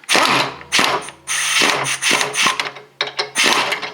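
A 17mm ratcheting wrench clicks rapidly and loudly as it loosens the sway bar end link nut on a 2011-2016 Hyundai Elantra, with several bursts of ratchet pawl clatter separated by short pauses.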